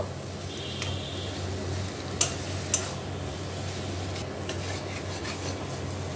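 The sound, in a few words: stirring garam masala into shrimp kofta mixture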